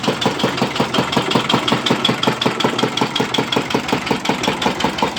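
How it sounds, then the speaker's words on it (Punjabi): A Peter engine driving an irrigation setup idles with a steady, rapid thumping beat, loud and close, with no voices. "ਇਹ ਪੀਟਰ ਇੰਜਨ ਹੈ ਜੀ।"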